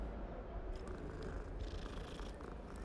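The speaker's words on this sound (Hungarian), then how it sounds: "Cica." A cat purrs in the Hogwarts Legacy video game, a steady, close, rumbling purr that continues without a break and without any voices.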